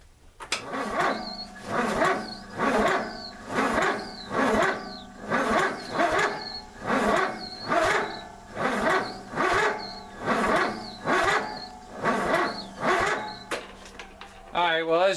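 MTD Yard Machine lawn tractor engine cranking without firing, a rhythmic whirring starter cycle repeating about every second for fifteen seconds, steady and close, with no catch or rev.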